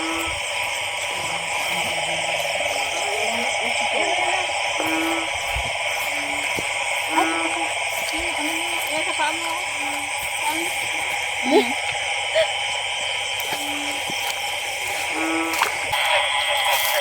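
Many frogs croak and chirp in a rural field at 1:30 a.m. over a steady night hum of insects, with repeated calls overlapping at middle distance and no clear pauses.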